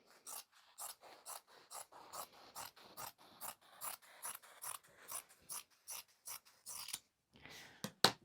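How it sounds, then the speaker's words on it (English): Scissors snip through printed fabric to cut out sewing pockets, a steady run of about twenty crisp, evenly spaced cuts, close and fairly loud, ending with a few sharper clicks. "I'm going to cut these pockets out now"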